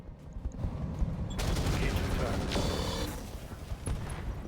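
A Jerry-Rig Demolisher mech unloading its weapons in RogueTech: a sustained roaring volley of heavy gunfire and rumbling impacts with a mechanical clatter, loud and continuous for several seconds, under quiet speech.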